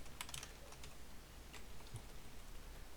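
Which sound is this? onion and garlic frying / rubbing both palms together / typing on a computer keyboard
typing on a computer keyboard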